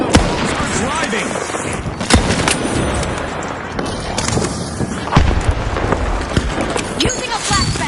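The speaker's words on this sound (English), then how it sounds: "Using a flashbang! Taking damage. Pyro grenade out!" Flashbang and pyro grenade blasts go off in a shooter video game, with sharp bursts of gunfire and booms over a dense, noisy battle soundscape. A voice talks throughout.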